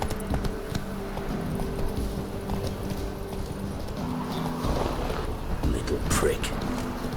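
Roach, the horse in The Witcher 3, gallops with quick, rhythmic clip-clop hoofbeats that run steadily for several seconds, with a brief whinny-like sound and faint game ambience mixed in.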